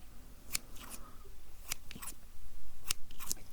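Close, crisp scissor snips trimming eyebrows in an ASMR role-play, coming in short bursts of two or three cuts with pauses between, over a quiet background.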